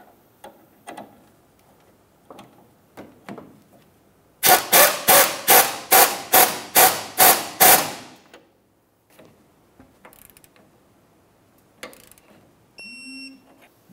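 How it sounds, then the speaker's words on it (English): A ratchet wrench tightening a sway bar link nut on a 1994-2002 Dodge Ram 2500, about ten quick loud ratcheting strokes in a steady rhythm, with quieter clicks and handling noises before and after. "Now we can tighten that upper nut."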